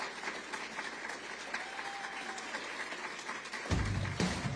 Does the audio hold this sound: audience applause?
yes